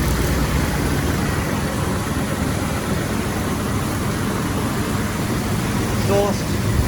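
A Jeep Wrangler's 4.0 engine, fitted without an AC compressor after sitting for years, idles steadily with a continuous low rumble, close by and alone.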